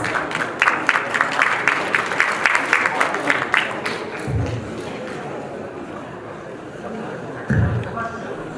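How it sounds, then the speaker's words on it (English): A conference audience welcomes speakers onto the stage with clapping that runs for about four seconds, then thins out, with a low murmur of voices and a few thumps afterward. "Let's welcome them with a big round of applause."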